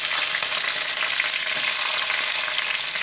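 Mustard seeds spluttering and popping in hot oil as a tempering for a tamarind prawn curry, a steady, dense crackle and sizzle that carries on evenly throughout, close and loud with no voices.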